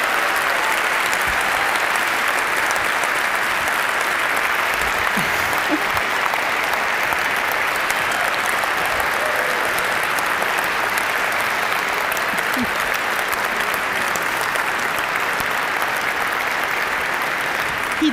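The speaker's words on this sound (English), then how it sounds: "He does deserve a lot of applause" Sustained applause from a large conference audience fills the whole stretch, a dense steady clapping at even loudness with no voices on top.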